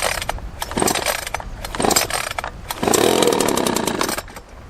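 A Red Max leaf blower's small two-stroke engine is pulled over in several rough, sputtering bursts outdoors by a barndominium concrete pad, then catches and roars steadily and loudly before easing off.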